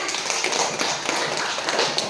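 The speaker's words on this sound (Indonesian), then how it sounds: "Kasih tepuk tangan ya." A group of children clapping in a classroom, a dense, steady patter of many hands throughout, close and fairly loud with no pauses.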